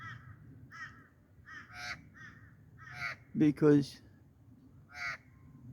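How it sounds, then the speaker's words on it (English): Magpies calling outdoors, a run of harsh caws and chattering calls, mostly moderate and fairly close, with one louder burst midway and brief speech over them. "the magpies were going off"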